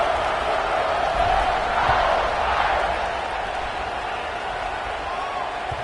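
Stadium crowd noise from the NCAA 26 football video game, a broad steady roar that swells and then settles slightly as the kickoff approaches, with no clear speech.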